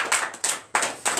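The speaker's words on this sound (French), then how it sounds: "donnez l'acclamation à Jésus." Applause from a church congregation at a morning prayer service in Benin: loud, dense bursts of clapping arrive in four surges with brief dips between them, and no voices are heard over it.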